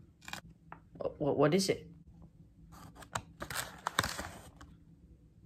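Paper tears and crinkles close by as an envelope is ripped open, a short burst of rustling and ripping between casual voices chatting around it.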